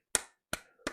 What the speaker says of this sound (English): I'm going to give you a round of applause for being a respected member of the community.